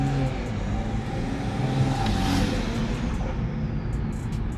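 Inside a BMW M340i on the move, a steady engine rumble fills the cabin, with a brief rising turbo whoosh swelling near the middle before settling back.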